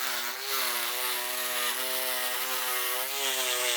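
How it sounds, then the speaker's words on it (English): A jigsaw fitted with a carbide-tipped blade cuts through cement board, giving a continuous loud buzzing whine with a steady pitch that dips slightly under load, close up and alone. "In order to cut this cement board, I'm using a jigsaw with a carbide tip blade, and it's going to just cut down this line"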